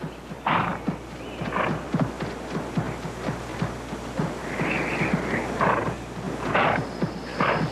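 A horse rears and neighs amid scuffling hooves, with sharp whinnies and thudding steps close by over a rough, noisy background.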